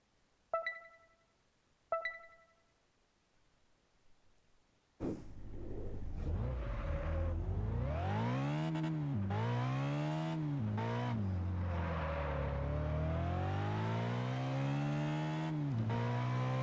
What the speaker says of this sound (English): Yeah, the Bugatti Veyron Super Sport.